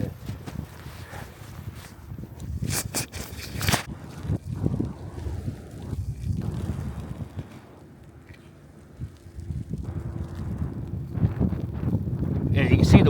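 Blustery wind from a blizzard roars outdoors on a city street, a broad rumbling low gust with microphone buffeting that swells and eases over the span, fairly loud and near.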